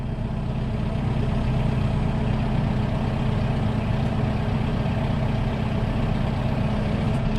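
A warm tractor engine runs steadily with a low, even rumble throughout, heavy and close, with no talk.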